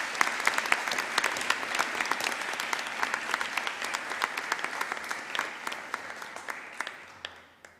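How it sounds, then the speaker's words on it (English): An audience at a girls' high school awards ceremony applauds for several seconds, a bright wash of many hands with sharper individual claps on top, fading slightly toward the end. "the audience may applause while she's walking up"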